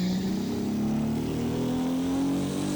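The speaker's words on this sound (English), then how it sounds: "what I do really like about this car is the RB26 and the sound of it" A Nissan RB26 engine in a sim racing game revs steadily upward in third gear, a loud, continuous rising drone heard on its own without talk.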